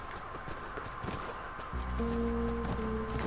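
Horse hooves clip-clop steadily in The Last of Us Part II, a rhythmic close-range plodding that grows louder partway through as a low game tone swells beneath it.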